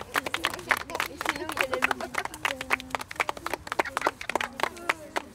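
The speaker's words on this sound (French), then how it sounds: "Merci, vous pouvez vous applaudir." A small outdoor group at a wetland site claps for themselves: scattered, uneven handclaps ring out close by while several people chatter and talk over them.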